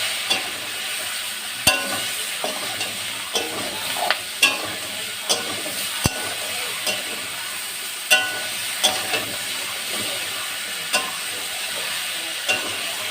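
Foloi fish curry with salt and turmeric is stirred in a sizzling pan: a steady frying hiss broken by regular sharp scrapes and knocks of the spoon against the pan, close by.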